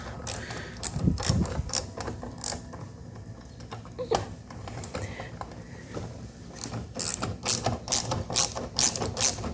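Ratchet clicking as it drives a screw with a 3/8 head while a sliding garage door lock is installed, with repeated bursts of sharp mechanical clicks and creaks at close range and no talk.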